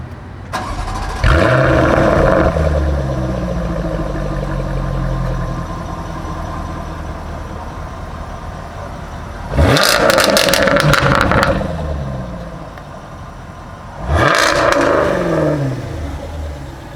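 Jaguar F-Type engine starting with a sharp cranking burst and then settling into a rumbling idle, followed by two loud close revs that rise and fall back, with no talk.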